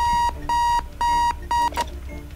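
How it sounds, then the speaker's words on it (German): An alarm clock rings in the video game Keep Talking and Nobody Explodes, loud, bright electronic beeps in four evenly spaced bursts of roughly a third of a second each, heard clearly with no talking. "Ich muss den Wecker ausstellen"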